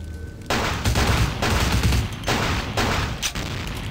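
Gunfire in Vampire: The Masquerade - Bloodlines comes as loud close volleys of rapid shots, several bursts in quick succession with brief gaps between them.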